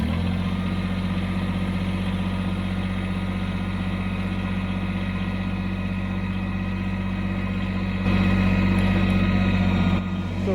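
Kubota BX compact tractor engine running steadily with a deep, even drone and strong low hum, set in low range and four-wheel drive for digging, growing slightly louder near the end before settling back.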